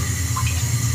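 Water poured into a pot of mutton and arbi curry, a short, steady liquid rush, close and alone.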